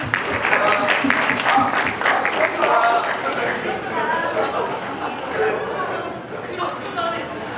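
Fans applaud at a K-pop fan signing event in Seocho, a scattered clapping that trails off under a voice talking throughout.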